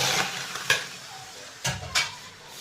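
Boiled tapioca tipped into a pot on a lit stove and stirred, giving a few sharp scraping clacks spaced over a low, steady sizzle.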